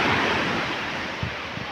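Ocean surf washes onto the beach at Punta Harina in a steady, loud rush of broadband noise, with wind buffeting the microphone.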